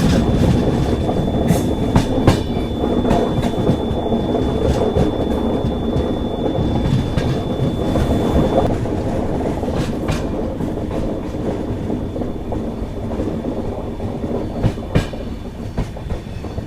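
The Paschim Deluxe superfast express passenger train, heard from inside a 2nd AC coach as it rolls past New Morinda Junction, gives a loud, steady rumble with a continuous rhythmic clickety-clack of wheels on rail joints, and no talking.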